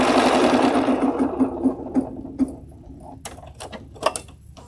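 A sewing machine stitches in a loud, steady run that slows into a few separate thumps and then stops, leaving light handling clatter.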